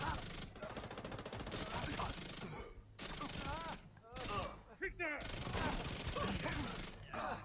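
A submachine gun fires in The Division 2 in sustained rapid automatic bursts with brief pauses between them, up close and loud, while someone talks over the shooting.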